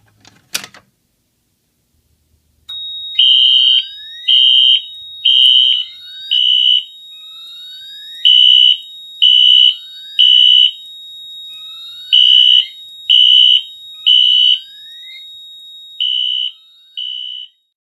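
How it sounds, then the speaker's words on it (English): A fire alarm system goes off after its pull station is activated, following a single sharp click. Loud, evenly spaced electronic horn blasts repeat in a steady pulsing pattern, with a constant high strobe whine beneath and no talking. "the only thing left to do is to pull the alarm"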